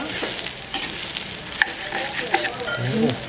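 Jaffna-style beetroot curry sizzles in oil in a pan as it is stirred, a steady close frying hiss with soft scraping strokes of the spoon.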